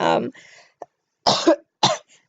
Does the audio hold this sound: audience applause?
no